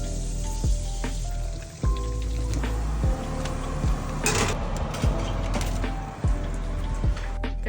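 Skinned bream fillets frying in a pan, a steady close sizzle and crackle with scattered pops and spits throughout, no voices.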